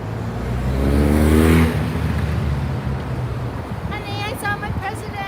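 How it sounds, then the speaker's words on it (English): A presidential car drives past on Park Lane in London, its engine rumble swelling loudly over about a second and a half, then fading into street noise while voices rise faintly near the end. "Oh, there's Joe Biden's car."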